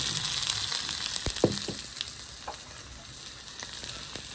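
Mustard seeds, onion and green chilli sizzle in hot oil for a semolina dish. A steady, fairly quiet frying hiss runs throughout, with a few brief crackles and pops from the seeds and no voice.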